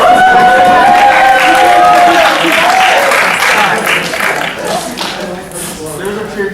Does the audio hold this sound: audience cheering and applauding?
yes